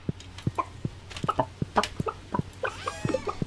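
Chickens cluck in the farming video game Stardew Valley, a quick series of short, clipped clucks in an uneven rhythm, fairly close and clear, with a faint steady background hum beneath.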